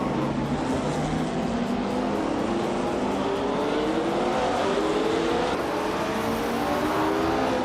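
Race cars in a racing video game roar continuously, engines climbing steadily in pitch as they accelerate, loud and close with overlapping motors and no talk.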